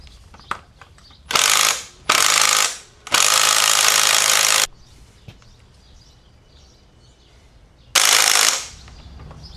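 A Bosch power tool rattles hard in several loud, close bursts of a few seconds each, hammering at a seized outboard motor, with quiet gaps and small clicks in between.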